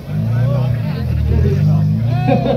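A Formula 4 race car nears at a motor festival, its engine a steady low drone that grows under a busy crowd babble and nearby talking voices.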